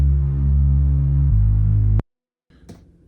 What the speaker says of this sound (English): Very heavy bass.